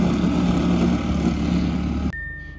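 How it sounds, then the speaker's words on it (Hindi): A snow blower churns and throws snow during a heavy snowstorm, a steady loud engine drone with a rushing, whooshing texture that cuts off abruptly near the end, leaving a faint tone. "ये लगी मुझे मस्त चीज जो स्नो फेंक रही है ना, ये सारी स्नो को आगे मार दी।"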